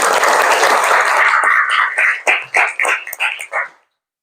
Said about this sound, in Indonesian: Tepuk tangan dulu, aplaus buat Nabila Dani